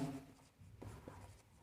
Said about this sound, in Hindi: यहाँ पर एक नोट लिखते हैं।